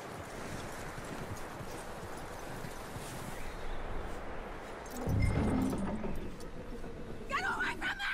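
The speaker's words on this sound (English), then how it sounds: "That looks like a decent horse." Horse hooves clip-clop over steady ambience in Red Dead Redemption 2's snowy setting, a rhythmic patter at moderate distance with a louder thud midway and speech beneath.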